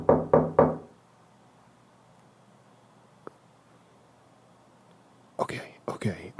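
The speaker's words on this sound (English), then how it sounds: "Who the hell will be knocking at my door?" Three quick, firm knocks strike a door at 11 p.m. at night, followed by a long hush, then quiet voices whispering near the end.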